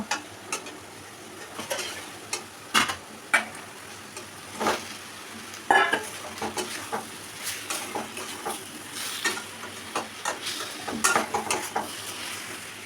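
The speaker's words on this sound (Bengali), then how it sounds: "মশলার সঙ্গে আলুগুলো কষানো হয়ে গেছে এরপরে ভেজে তুলে রাখা যে চিকেনগুলো ওইগুলো দিয়ে দেব" Fried chicken pieces and potatoes being stirred into spices in a pan, with irregular spoon scrapes and clinks against the metal over a low sizzle, close by, with no talking.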